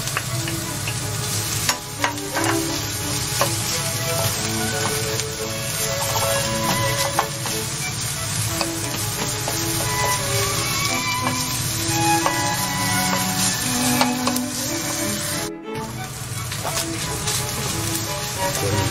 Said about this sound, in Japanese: ベーコン入れます。